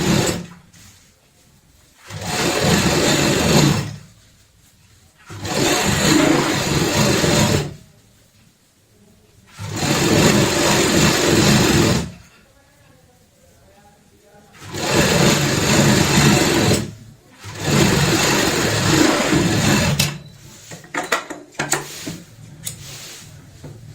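Sewing machine stitching a bed sheet along a marked margin, loud close motor runs in five bursts of a few seconds each with quiet gaps between, ending in scattered handling noises.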